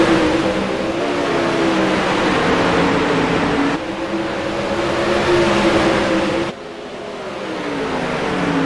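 Race cars roar around a track during a broadcast race, a loud continuous engine drone with shifting pitch as cars pass and rev, steady and dense throughout with no talk heard.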